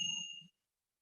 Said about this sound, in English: Then I'm going to ring our chimes